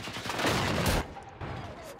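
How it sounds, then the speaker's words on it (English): Brief burst of rapid gunfire in the video game Generation Zero, a dense second-long volley followed by a quieter second shot, fairly faint in the mix. "Hear gunfire."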